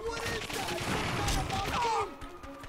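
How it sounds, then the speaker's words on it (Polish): Enemy gunfire in the video game The Darkness 2, a dense burst of shots and crashing impacts for about two seconds, then quieter scattered sounds. "Stąd on we mnie strzela."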